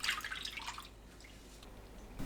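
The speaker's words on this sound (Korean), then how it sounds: "새우를 헹궈내세요." Water drips and trickles off freshly rinsed shrimp in a kitchen, a brief soft splashing patter that fades to quiet with a small knock at the end.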